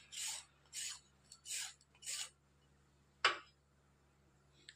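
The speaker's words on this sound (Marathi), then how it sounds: "असं किसून घ्यायचं आपल्याला" Peeled radish rubbed against a kitchen grater in four quick rasping strokes, then a pause and one final sharp scrape, close up and alone in a quiet room.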